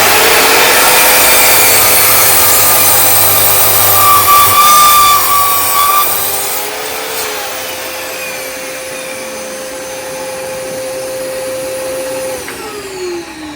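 A hand saw cuts through wood held in a miter box while building a gutter on a wooden cabin, giving loud, even rasping strokes that ease off and soften partway through.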